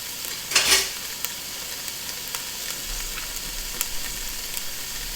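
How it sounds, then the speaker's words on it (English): Food sizzling and frying in a pan while being stirred, a soft continuous crackle with a brief louder scrape near the start and light clinks scattered through. "Give it a quick stir."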